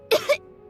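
A character in a Genshin Impact cutscene lets out two quick, close coughs, rough and throaty, in an otherwise quiet moment.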